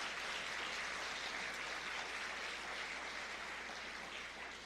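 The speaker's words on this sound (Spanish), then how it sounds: "un aplauso para nuestro Ministerio de Vialidad" An audience at a church gathering gives a round of applause for the road ministry team, a faint, even wash of clapping that continues steadily and dips slightly at the end.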